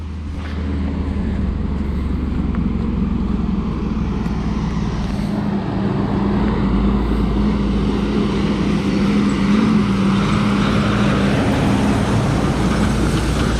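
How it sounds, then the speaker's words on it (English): A logging truck engine rumbles steadily on a Vancouver Island road, low and droning, growing slightly louder as it approaches with a continuous road roar. "It sounds like the logging truck's coming."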